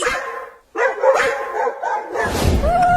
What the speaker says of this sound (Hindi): ये कुत्ते हमारे घर के पास आकर क्यों भौंकने लगे?